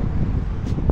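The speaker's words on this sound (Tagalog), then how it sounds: "kaya medyo ngayon mahangin siya" Wind gusts across a parking area on a blustery day in Sweden, a loud, steady broadband rush with low buffeting against the microphone and no voices.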